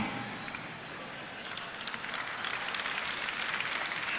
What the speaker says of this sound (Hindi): आप तालियां बजा रहे हैं इसी बात की